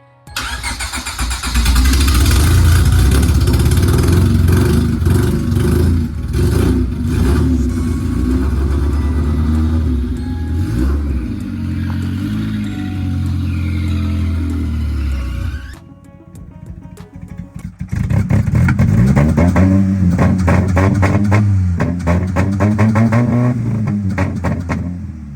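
A Honda D16Y8 SOHC VTEC engine, swapped into a four-door Civic sedan, starts for the first time. It cranks, catches and revs loudly, dips briefly, then roars back to a rough, revving idle.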